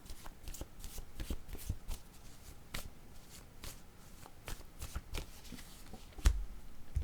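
A deck of cards shuffled for a card reading, quick crisp riffles and flicks repeating through the clip with soft taps and rustles between, close and fairly quiet.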